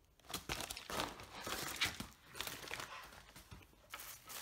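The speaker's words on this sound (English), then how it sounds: "pink tissue paper with the Nadine West sticker on the outside" Pink tissue paper wrapped around clothing in a bubble-envelope package crinkles and rustles up close, in irregular bursts of crisp handling noise with no talking.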